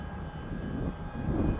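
Small Esky Eagle 1100mm RC trainer airplane flying in windy conditions, its electric motor giving a steady droning whir at moderate distance that swells slightly toward the end, with no voices.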